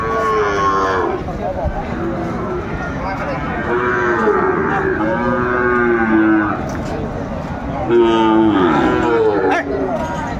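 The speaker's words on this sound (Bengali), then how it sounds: "চমৎকার একটি ষাঁড় বাচ্চা, একেবারে কোয়ালিটি সম্পন্ন" A Sahiwal bull calf at a cattle market moos repeatedly in long, drawn-out calls, loud and close, with other cattle lowing and a faint murmur of people in the background.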